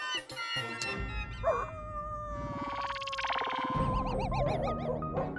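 A dog howls from somewhere behind a housing society, its long wavering cries rising and falling in pitch, with some warbling, swooping tones mixed in.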